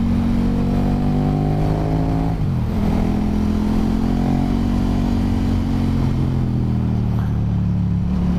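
Aprilia Tuono or KTM Super Duke R motorcycle engine droning loud and close on a twisty road, revs dropping in stepped downshifts with no throttle blip, then pulling steadily again.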